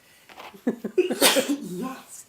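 A single person sneezes at close range, a sharp burst in the middle of brief quiet talk. Some soft speech comes just before the sneeze and trails on after it.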